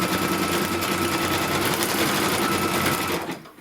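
An embroidery machine stitches the placement line for a piece of flex foam on a Kimberbell blossom pin cushion, a close, steady, fast mechanical whir that runs continuously and then cuts off at the very end.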